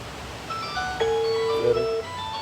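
A phone ringing with an incoming call: a short, bright electronic ringtone melody of a few steady notes, fairly clear over a quiet background.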